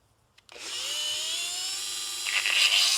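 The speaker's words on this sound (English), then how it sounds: "Just chuck it up in your Dremel on the lowest speed" Dremel rotary tool spinning on its lowest speed with a homemade carving bit made from a grinding wheel: after a brief silence it starts up into a steady, close, high-pitched whine that grows slightly rougher near the end.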